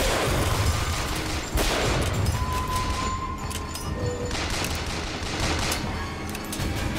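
Continuous gunfire from a Bioshock Infinite firefight, dense overlapping shots and bursts sustained throughout at steady loudness, with no talk.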